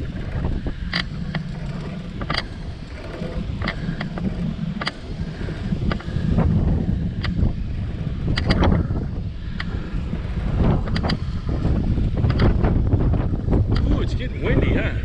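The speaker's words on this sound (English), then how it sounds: "Ooh, it's getting windy, huh?" Wind rushes past the microphone during a long outdoor bike ride, a steady low roar with scattered clicks and creaks, while people talk over it.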